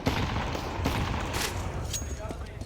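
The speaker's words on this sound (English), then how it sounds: "The decoys pop." Decoy grenades in Counter-Strike popping with bursts of fake gunfire, a dense clatter of rapid shots and pops, moderately loud and continuous throughout, mixed with game noise.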